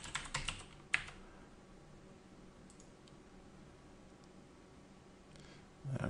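A few quick keystrokes on a computer keyboard as a password is entered during a Windows 8 setup, a short burst of clicks at the start, then near silence with faint hum.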